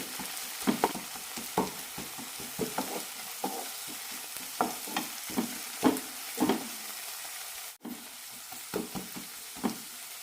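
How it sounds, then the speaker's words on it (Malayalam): Cooked tomatoes being mashed and stirred in a frying pan for ivy gourd curry, giving repeated scraping, squelching strokes over a soft sizzle, close and steady, with no voices. "തക്കാളി നന്നായി വെന്തിട്ടുണ്ട് ഒന്ന് ഉടച്ചു കൊടുക്കാം"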